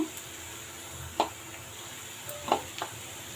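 Onions frying in a pan give a soft, steady sizzle close by, broken by a few sharp clinks and scrapes of a spoon stirring them, with no talk.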